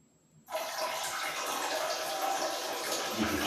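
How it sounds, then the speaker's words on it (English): A man urinating into toilet water: a steady, close stream of splashing and trickling begins abruptly after a brief quiet moment and continues evenly to the end, with no talking. "You can clearly hear that I'm urinating."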